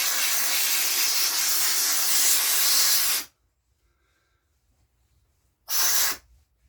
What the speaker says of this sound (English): Just get a little steam out, get all the residue out.